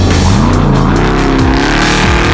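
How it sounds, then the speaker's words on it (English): A 900 horsepower trophy truck racing through desert sand in Baja, its engine roaring very loud and close with rising and falling revs, a continuous harsh blast filling the whole stretch. "something about a 900 horsepower trophy truck just blasting through the sands of Baja"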